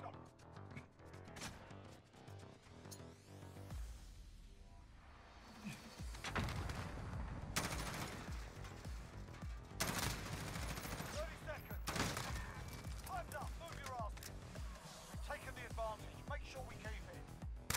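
Gunfire in the Modern Warfare video game: sustained loud bursts of rapid shots and fusillades, with crashing impacts and a dense, continuous barrage through most of the stretch, and no voice heard over it.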